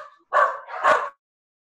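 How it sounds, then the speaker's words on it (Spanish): One dog gives two quick loud barks close by, then silence. "Dame un segundo que me alborotaron los perros."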